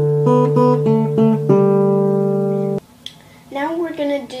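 A short plucked guitar melody from the folk song "Old McDonald Had a Farm," a few notes then one held ringing note, before a voice begins speaking.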